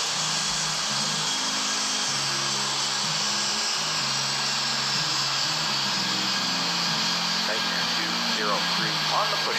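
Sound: aircraft taking off in Airport Madness 3D video game

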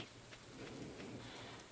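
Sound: rain falling on a strawberry farm in Stardew Valley video game

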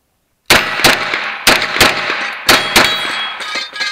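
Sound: CZ A01-LD pistol shots hitting steel targets

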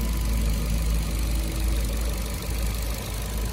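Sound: Ford Fiesta 2011 1.6 automatic car engine idling

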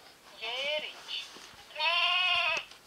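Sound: sheep bleating in a sound-guessing game

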